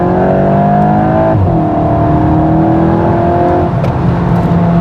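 Inside the cabin of a 2025 VW Golf GTI, the turbocharged engine drones and climbs in pitch under acceleration, drops briefly at a gear change, then pulls up again, loud and steady with road hum beneath.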